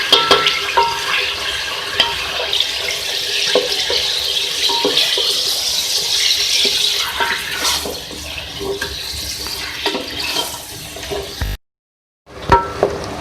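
Beef frying with ginger garlic paste in a pot for Delhi-style aloo gosht, a loud continuous sizzle with spatula stirring and scraping throughout, cutting out briefly near the end before resuming.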